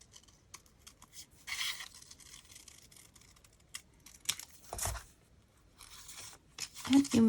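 Scissors cutting paper for an envelope pouch template give short irregular snips and rustles close by, with pauses, paper handling and a faint thump between cuts.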